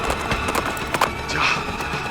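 The horse Shamsher galloping in a drama scene, hooves clip-clopping in quick, busy beats over a dense, noisy background with a brief whinny-like flourish midway.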